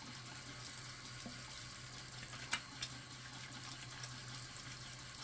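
Water running steadily from a tap to wet the face before shaving, a continuous rushing hiss with a few faint splashes and clinks, close by with no talking.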